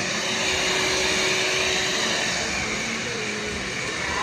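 A hair blower drying hair at a barbershop roars with a steady, close, broadband whoosh that holds constant throughout with no talking.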